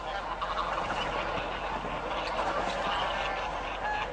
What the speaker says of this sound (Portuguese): Estas aves migratórias viajaram por milhares de quilômetros para escapar do frio.